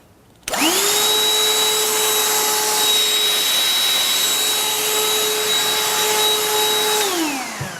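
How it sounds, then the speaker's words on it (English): A Black & Decker 16V cordless handheld vacuum switches on abruptly, holds a loud steady motor whine with a high tonal hum for about seven seconds, then spins down. "This vacuum comes at between 80 to 83 decibels, depending exactly on the angle of the motor."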